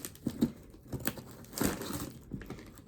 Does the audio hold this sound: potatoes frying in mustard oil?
no